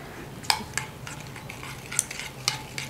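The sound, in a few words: stirring chutney to dissolve jaggery sugar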